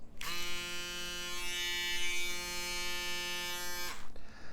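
An Andis electric hair clipper buzzes steadily for about four seconds, a close, bright mechanical hum that starts and stops abruptly.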